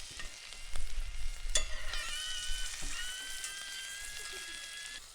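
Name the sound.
sausages sizzling while frying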